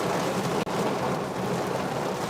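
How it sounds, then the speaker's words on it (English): Heavy rain pours onto a parked car near a Publix, heard from inside as a dense, loud, continuous roar with no talking. "Look, it's pouring out here."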